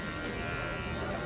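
Electric clippers buzz steadily at a barber shop as a head is shaved almost bald, a continuous close, loud hum with no pauses.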